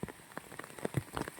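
Rain patters steadily on surfaces at a mountaintop settlement with houses around, soft irregular drops in a quiet, fairly faint downpour with no voices.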